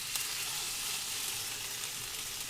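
Tofu for a scrambled vegan dish sizzles and fries in a pan, a steady bright hiss that holds throughout without a break.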